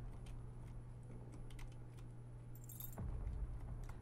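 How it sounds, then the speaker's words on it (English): Keys jangle in the horror video game Saiko no Sutoka, a series of light metallic clinks and rattles heard close over a low steady hum, with a brief louder shift near the end. "Trying to get their keys"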